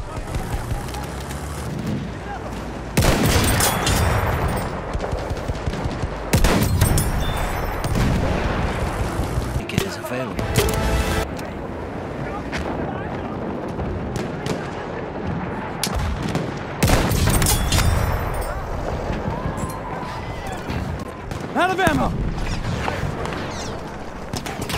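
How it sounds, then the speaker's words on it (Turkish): Gunfire from a machine gun and other weapons in the video game Battlefield 1 on Xbox One, with loud bursts and explosive booms coming in repeated waves over a constant battlefield din. "Orada bir makinalı tüfek var."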